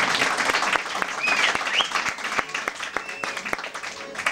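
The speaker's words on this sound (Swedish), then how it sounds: "Ja, en stor applåd för Texas." A theatre crowd at a revue in a village pub in Pajala claps warmly for Texas, full dense applause that thins into scattered distinct claps as it fades.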